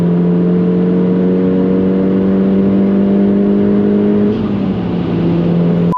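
A tuned 450bhp Audi S3 8P Sportback on air ride cruising at speed, heard as a loud, steady low engine drone with road roar that holds even for seconds, then dips slightly as the pitch shifts near the end.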